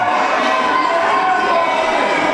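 Crowd noise from spectators at a UWC independent wrestling show, a steady broad roar of cheering and shouting that stays loud and continuous throughout with no pauses.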